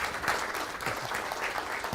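Steady applause from an audience, a dense patter of many hands clapping at moderate volume throughout.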